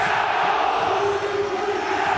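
A large football crowd roars and cheers in the Steigerwaldstadion in Erfurt after an early goal, a dense, continuous wash of voices at steady volume.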